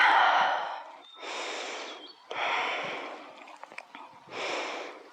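Deep breathing during a yoga trapeze pose: four long, loud, airy breaths, close to the mic, alternating inhale and exhale with short quiet gaps between.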